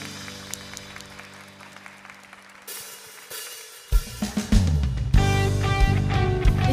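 A church congregation claps during a Sunday worship service while the worship band plays, with sustained keyboard tones giving way to loud drums and full instruments as the crowded applause runs beneath the music.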